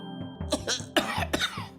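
Several sharp human coughs in quick succession, close and loud, from a radio advertisement for a cough and lung remedy capsule.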